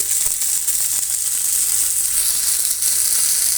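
Fish pieces sizzling steadily in a shallow layer of hot oil in a home kitchen, a dense continuous crackle with no breaks, close and fairly loud, with no voices.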